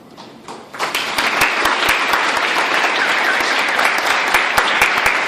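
Wedding reception guests break into loud, sustained applause after a toast, clapping building quickly from a quiet start and holding steady with scattered sharp claps standing out from the dense crowd.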